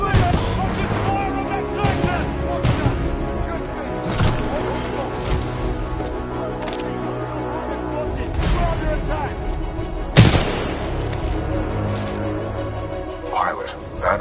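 Sustained supporting gunfire and heavy impacts in the Titanfall 2 campaign, a dense continuous barrage with repeated bursts and one loud crash near the end, under intermittent game voice chatter.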